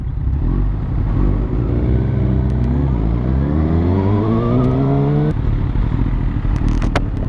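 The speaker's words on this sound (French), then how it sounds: "Oh, la vieille Porsche." An old Porsche engine rises in pitch as it accelerates past, a loud rising mechanical drone over steady road noise, then it drops away abruptly as the gear changes.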